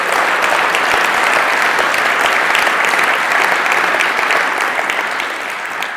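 At a tech conference keynote, a large crowd applauds the organizers with a dense, loud, sustained wash of clapping that holds steady for about six seconds and tapers slightly at the end.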